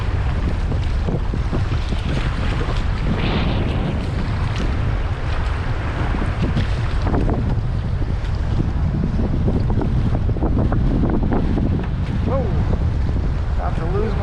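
Strong 30 mph wind roars across a kayak on Lake Washington, heavy buffeting microphone noise with sloshing water and waves, loud and constant throughout with brief faint sounds underneath.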